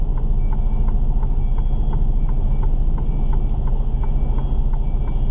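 A lorry backs out of a yard onto the road, its steady reversing beeper pulsing over a loud, constant diesel idle and road rumble throughout.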